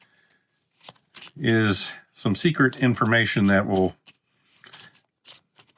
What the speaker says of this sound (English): we're going to shuffle these face up